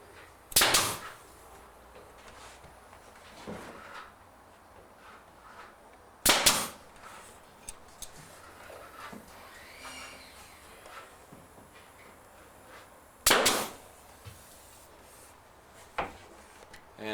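A pneumatic nail gun fires three sharp, loud shots into coved miter molding being fastened in place during a Craftsman bungalow renovation, spaced several seconds apart with a fainter tap near the end and quiet room tone between.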